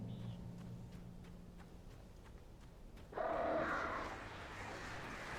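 Crows caw in the Alan Wake Remastered video game, a burst of loud, harsh calls arriving suddenly over a low ambient game background after a quiet stretch.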